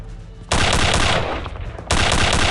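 Loud, sustained automatic gunfire in the first-person shooter Return to Castle Wolfenstein, with a continuous burst followed by a brief dip and then a second burst, heard alone.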